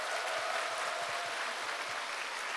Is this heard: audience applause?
yes